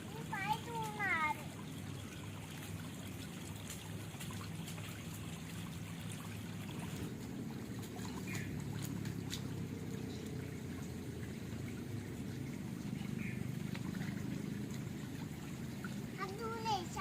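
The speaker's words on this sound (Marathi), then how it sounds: "मी पाय धुणार." Water splashes and streams as feet are washed in a cucumber field, with a soft continuous pour under frequent chatter that includes a voice.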